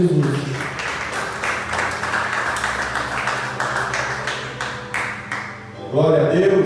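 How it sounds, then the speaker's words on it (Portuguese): A church congregation applauds, a rapid spread of many hands clapping in a reverberant room for several seconds, fading out before a voice returns at the end. "a igreja aplaude o nome do Senhor Jesus"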